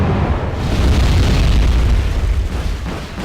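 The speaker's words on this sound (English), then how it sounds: "this is better mortar spam, 5 versus 3 HE" Mortar shell explosions in a strategy video game, a dense, loud barrage of overlapping booms and rumbling blasts that runs continuously without any break.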